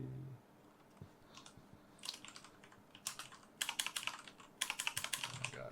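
Typing on a computer keyboard comes through as quiet, close key clicks that start sparse and build into quick, dense bursts of tapping, with no voices over them.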